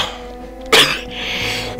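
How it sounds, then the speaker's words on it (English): A single sharp, close cough bursts out, loud and brief, then trails into a muffled breathy rasp as it is held back, with a quiet room hum around it. "Trying to suppress a cough there."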